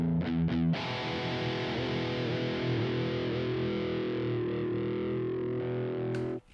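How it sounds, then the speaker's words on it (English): An electric guitar is hit with a couple of quick picked notes, then a sustained distorted chord bends and wavers in pitch under whammy bar dips, loud and continuous before cutting off abruptly. "whammy bar. It sounds like this."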